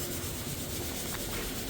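Steady close rubbing of sandpaper across white oak boards in a kitchen remodel workshop, an even continuous scratch with no pauses and no talking.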